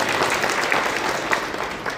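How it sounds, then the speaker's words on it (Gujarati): An audience applauds for Navghanbhai at a farming talk gathering, a dense steady burst of clapping from many hands, close and loud, lasting throughout. "નવઘણભાઈને પહેલાં તો તાળીઓથી વધાવજો બધા"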